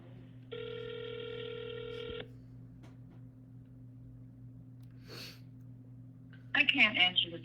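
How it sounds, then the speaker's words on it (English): A telephone rings once with an electronic tone lasting about two seconds. A short burst of speech follows later. "I can't answer the phone right now."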